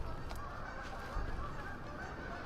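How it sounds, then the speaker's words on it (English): Geese honk in agitated bursts, several loud overlapping calls outdoors near woods, with no talk during the calls. "And these geese are just freaking out."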